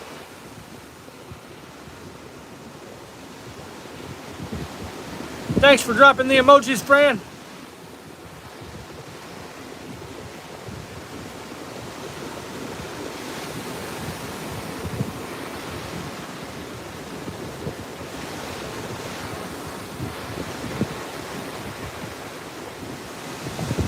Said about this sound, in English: It's nice to go swimming in the waves out here